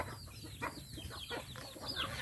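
Chickens at a backyard coop cluck in a quick series of short, choppy calls, soft and at mid distance over a faint low background hum.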